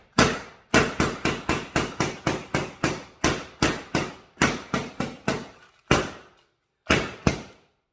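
A patrol carbine fires shots unexpectedly in automatic: a rapid string of about twenty sharp, loud reports in quick succession, then a pause and a few single shots spaced farther apart.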